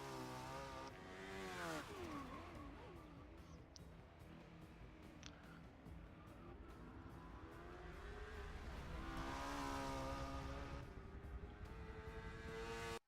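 Turbocharged car engine from the Forza 6 July car pack revving loudly, rising and falling through gear changes with a steady roar throughout, alone without talk.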